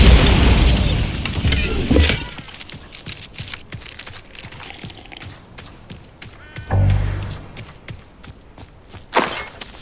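A Bombarda spell in Hogwarts Legacy sets off a heavy booming blast at the start, followed by scattered crumbling and clattering debris, then a second deep thud and a final sharp crack, with quieter shuffling in between.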